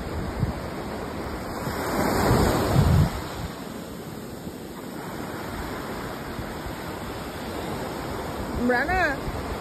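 Seawater washes up a private beach at high tide on Neil Island in the Andaman Islands. Steady surf rushes close by with a swell of louder breaking around two to three seconds, amid wind noise on the microphone.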